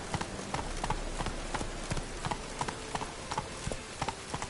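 Horse hooves clip-clop in The Witcher 3, a steady galloping rhythm of sharp repeated hoof strikes at moderate volume with no talk over it.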